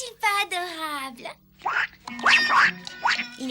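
A newly hatched cartoon duckling quacks in an animated Smurfs Easter special, giving a few short nasal quacks in quick succession after a character's voice speaks.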